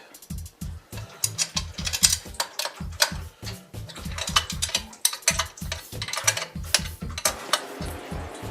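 A ratchet wrench works on an engine's alternator bracket where it attaches to the intake. It makes rapid runs of crisp, close clicks in short bursts, with brief pauses between strokes.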